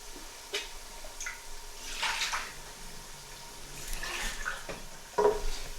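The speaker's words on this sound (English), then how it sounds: "I'm just going to put the kettle on because we're going to be needing hot water a little bit later." Tap water runs while a kettle is filled during home cooking of palak paneer, a soft splashing flow that swells and fades in uneven bursts, fairly quiet and with no talk.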